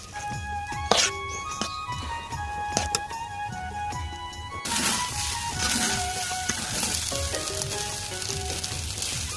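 Biryani ingredients fry in a pan over a clay stove, giving a steady sizzle broken by sharp clinks and scrapes of stirring, up close with no voices.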